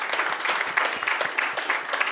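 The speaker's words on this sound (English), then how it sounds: "How about a big round of applause for the Modbap panel?" Audience applause for a synthesizer panel at a music-tech convention, a steady dense patter of many hands clapping close and loud throughout.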